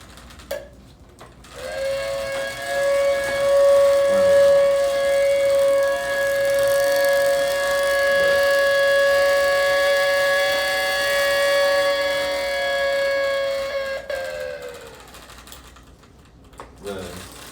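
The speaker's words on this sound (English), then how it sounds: "I could see the siren is modified now. It does still make a noise." A modified siren winds up and holds a loud, sustained tonal wail for about twelve seconds before winding down, with clicks and handling noise before and after.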